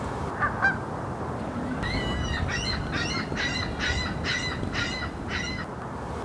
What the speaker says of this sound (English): We all hate the unpleasant calls of seagulls